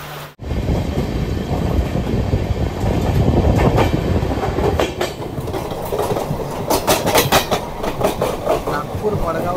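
Bandra Terminus to Madgaon Express running on the Konkan Railway, steady rolling rumble with rhythmic clickety-clack of wheels over rail joints, loud and close throughout, with faint voices mixed in.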